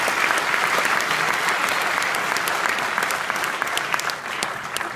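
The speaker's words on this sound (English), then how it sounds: "big round of applause to the whole of Future Lifestyle Network." Loud, sustained applause from an audience at an ACN business event, dense clapping filling the whole stretch without talk and tapering only slightly near the end.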